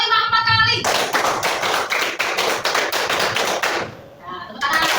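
A primary school class claps hands in rhythm on a teacher's cue, bursts of sharp, close claps in quick regular groups, with a short pause and children's voices between the rounds.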